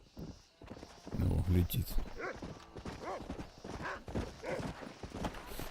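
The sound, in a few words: horse hooves approaching in Red Dead Redemption video game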